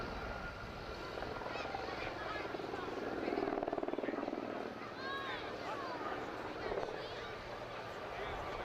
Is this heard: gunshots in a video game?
no